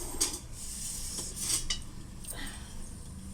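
Metal clinks and scrapes of a non-stick frying pan being handled on a gas stove, a few sharp bright taps and rubbing sounds close by, without talk.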